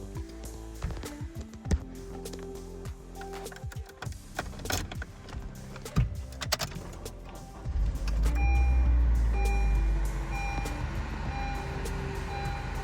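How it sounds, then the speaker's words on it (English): A 2024 Honda BR-V starting from inside the cabin, with a few electronic chimes and clicks before the engine catches around the middle and settles into a steady low idle hum close by. "Now that we've entered the car, without further ado, let's start it."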